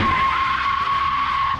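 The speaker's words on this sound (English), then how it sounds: "you'll end up squealing the tires a lot if you get a little too eager." Tires on a Kia Niro EV squealing hard as it launches from a standstill, a steady high-pitched screech over low road and motor noise lasting the full moment, with no talk.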